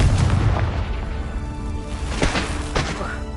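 Fire-spell explosions from the Confringo spell in the game Hogwarts Legacy: a rumbling boom at the start, then two sharp blasts later in the clip.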